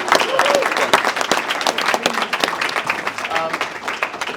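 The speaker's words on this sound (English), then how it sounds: "Let's give a round of applause to our candidates" An audience at a NEBA candidate forum applauds the candidates with steady, dense clapping that fills the room from start to finish. Crowd murmur and voices mix in underneath.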